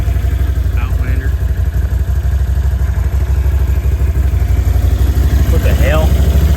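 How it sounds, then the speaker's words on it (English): A Can-Am Outlander 850 ATV idles with a steady, loud, low rumble and a mechanical clatter throughout, while a voice briefly sounds twice in the background. "850, we got the Can-Am."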